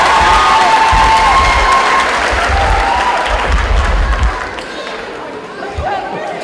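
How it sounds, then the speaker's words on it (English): Graduation crowd at a high school ceremony breaking into applause and cheering, a loud roar of clapping, whoops and chatter that gradually thins out and fades toward the end. "give yourselves a round of applause"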